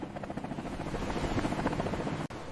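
A naval helicopter flies past with a dense, steady rotor thump and engine roar, held at an even loudness with one brief dropout near the end and no voices.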